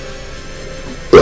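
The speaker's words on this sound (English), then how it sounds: "Excuse me, I had to burp." One short, loud burp bursts out abruptly at the very end, following a stretch of quiet, even background noise.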